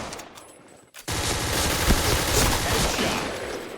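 Automatic gunfire in the shooter game Point Blank: a short, quiet lead-in, a brief gap, and then a loud, dense, continuous rattle of rapid shots that lasts to the end.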